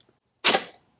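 One sharp, close shot from a Diana Bandit PCP air pistol fired from a bench, a bright crack with a brief decaying tail after a moment of quiet.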